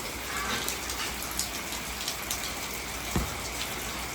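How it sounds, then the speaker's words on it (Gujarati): Steady midnight village rain pattering continuously on surfaces, soft and even throughout, with one brief louder knock near the end. "આશી રાતનો વરસાદ ચાલુ"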